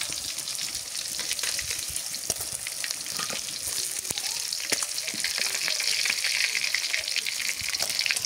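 Fish sizzles and spits steadily in hot oil in a village kitchen, a dense, crackling hiss that holds at an even level throughout with occasional sharper pops.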